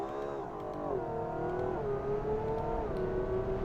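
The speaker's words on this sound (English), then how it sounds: "we want to do some high-speed highway pulls" Car engine in a driving video game accelerating on a highway, a steady harmonic drone that climbs and drops through gear shifts, close and continuous with no talk.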